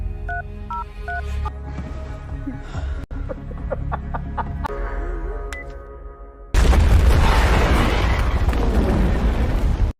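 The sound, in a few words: large explosion in a film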